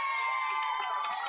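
A crowd cheers and shouts in a gym during a senior girls' basketball game, a dense, loud wash of voices that holds steady without a break.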